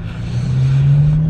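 A car driving in traffic on the way to Citadel Outlets in Los Angeles, its engine droning steadily and rising slightly in pitch, close and loud, with no voices.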